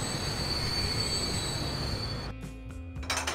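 A train in the game Transport Fever pulls into a station, its wheels squealing steadily and loudly on the rails, then the squeal cuts off abruptly into near quiet with a few soft clanks.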